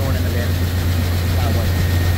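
A farm tractor engine runs steadily at a low, heavy drone near an auger, constant and loud throughout, with a voice talking over it.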